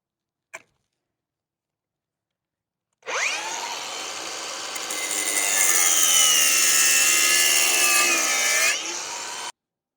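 A power tool cuts braided metal hose during a Mustang 2.3L turbo swap. A brief click comes first, then a loud, sustained high-pitched grinding whir for about six seconds that rises slightly before stopping, close with no voices.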